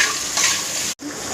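Okra fries with salt in a hot pan, giving a short, loud, close sizzle with a stirring scrape; the sound cuts out briefly near the end before the hiss resumes.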